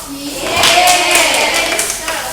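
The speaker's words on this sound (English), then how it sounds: "give applause for the first group" A classroom of students applauds the first group in a school micro-teaching session, steady clapping spread across the room with a few voices mixed in.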